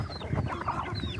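Backyard chickens cluck nearby in short, soft, irregular bursts over low background noise, with no voices.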